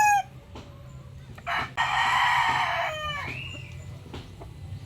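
A gamecock rooster in a backyard breeding setup crows once, loud and close, with a long drawn-out call between softer clucks and chicken noises.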